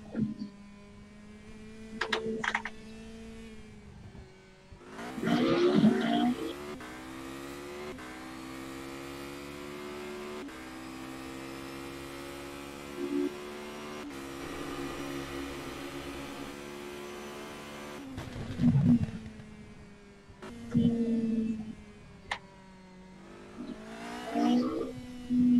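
An FR 3.5 race car engine in the rFactor 2 sim racing game, revving up and down through gear changes, with harmonic tones climbing and dropping repeatedly as the throttle goes on and off, heard alone at moderate level.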